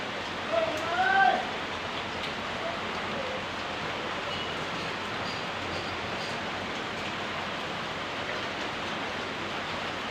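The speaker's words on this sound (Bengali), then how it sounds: "এই বৃষ্টিতে পরিবেশ ঠান্ডা লাগছে" Steady rain falls during the rainy monsoon season, a constant soft hiss of drops that continues evenly throughout, with a brief louder patch near the start.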